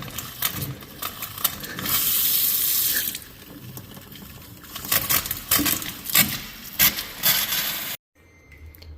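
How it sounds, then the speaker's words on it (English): Hot water running steadily from a household faucet into a sink, a rushing splash with clattery bursts, before the flow cuts off abruptly near the end. "So now that I've ran the hot water for a while, we lost all hot water in all the faucets throughout the house."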